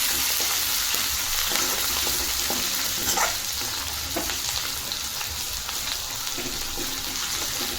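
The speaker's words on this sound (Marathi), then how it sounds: "हा वाटलेला लसूण टाकू, बारीक चिरलेला टोमॅटो, थोडीशी कोथिंबीर, हे व्यवस्थित परतून घेऊ आपण" Crushed garlic, chopped tomato and coriander sizzle and fry in hot oil with cumin and mustard seeds, with steady crackling and occasional stirring clinks. It is close and moderately loud, with no talking.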